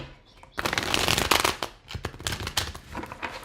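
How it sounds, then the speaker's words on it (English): Cards being shuffled for a tarot-style reading, a close burst of rapid riffling flutters followed by several shorter snaps and slides of the deck, fairly quiet with no talking. "Give me 2 more shuffles for Leo"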